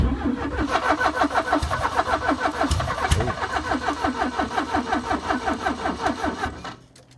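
A barn find classic car engine cranks over with a rhythmic, steady churn from the starter, catching in little pops and stutters as it tries to fire, then winding down and fading.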